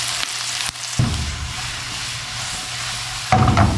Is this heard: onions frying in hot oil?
yes